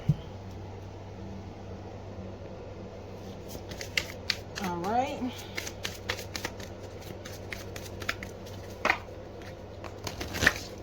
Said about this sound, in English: So we are shuffling from a few different decks now.